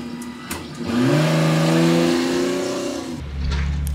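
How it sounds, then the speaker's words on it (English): A UPS delivery truck pulling up nearby, its engine swelling from a low idle into a louder rising drone that holds for a couple of seconds, then eases back to a rumble. "that UPS truck pulled up, which isn't that good for, you know, sound and everything"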